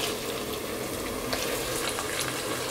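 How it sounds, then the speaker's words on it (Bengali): Chopped onions frying in a pan for a Bengali beef head-meat curry, a steady dense sizzle running unbroken throughout at moderate loudness, with faint stirring scrapes and no voices. "পেঁয়াজগুলোকে হালকা একটু ব্রাউন করে আগে ভেজে নিব আমি।"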